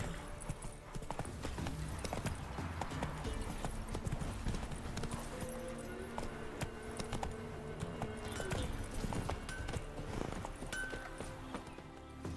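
Horse hooves clip-clop at a steady galloping rhythm, close and continuous, in The Witcher 3 video game, with occasional creaks and jangles of tack and a brief snort.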